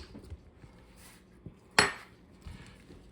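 Bacon cure ingredients mixed in a bowl, with quiet scraping and light taps, and one sharp clink from a utensil striking the bowl partway through.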